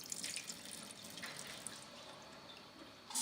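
Chicken hearts soaking and being rinsed in a bowl of water give a steady, close wash of running and splashing water that lasts throughout, with no voices.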